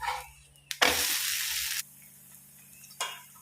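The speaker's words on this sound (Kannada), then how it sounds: "ಒಂದು ಸೈಡ್ ಫ್ರೈ ಆದಮೇಲೆ ಮೇಲಿಂದ ಸ್ವಲ್ಪ ತುಪ್ಪ ಅಥವಾ ಎಣ್ಣೆ ಯಾವುದಾದ್ರೂ ಹಾಕ್ಕೊಂಡು ಟರ್ನ್ ಮಾಡಿ ಹಾಕಿ ಇನ್ನೊಂದು ಸೈಡ್ ಕೂಡ ಬೇಯಿಸುವ" Flatbread frying in ghee or oil on a pan gives a loud sizzling burst lasting about a second, then a quieter crackle, with a short sizzle flaring again near the end over a steady low hum.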